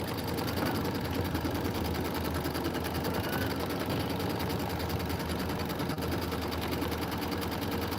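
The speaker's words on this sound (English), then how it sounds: "Grab your tweezers, grab that thread, and start stitching." A Baby Lock Aveneer Lumina embroidery sewing machine stitching quilt sashing runs steadily and loudly for the whole stretch, a continuous dense mechanical whir with no pauses.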